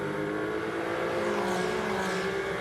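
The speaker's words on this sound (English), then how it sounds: "As you can hear the car accelerating out of the Parabolica." Ferrari Challenge Europe race car accelerating out of the Parabolica at Monza, a steady, loud engine drone with layered harmonics that holds throughout without a break.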